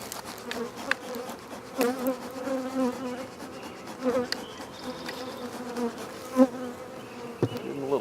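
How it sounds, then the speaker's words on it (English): Honeybees buzzing around an open hive during a spring inspection, a steady close drone with individual bees whining past the microphone at varying pitch, no talking. "there's only 2 or 3 left flying around me from the other hive, so we'll get in this larger one"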